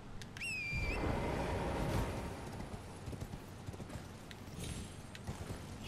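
Horse hooves clip-clopping in the video game Elden Ring, a quick run of light, close hoof taps after a few brief high electronic tones, then softer scattered steps fading out.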